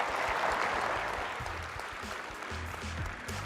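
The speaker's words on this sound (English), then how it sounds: "Round of applause, Ara." An audience at a research conference claps steadily for about three seconds, a dense wash of many hands at moderate distance with no voices over it.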